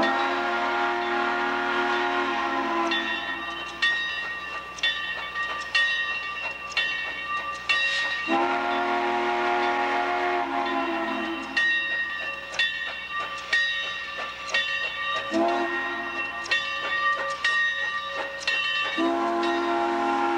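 Frisco 1522, a steam locomotive, departs a rail yard in St. Louis in the mid-1990s, with repeated loud horn or whistle blasts in bursts over a steady rolling rumble and clatter of the train.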